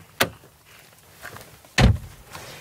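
A Dacia Jogger in comfort trim, its keyless entry unlocking the door: a soft click, then a louder, close solid thunk as the car door is opened, with no talking.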